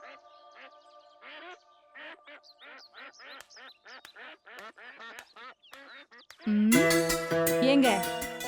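A duck being fed quacks in a rapid run of loud nasal calls, close by, before a burst of louder mixed sound at the end.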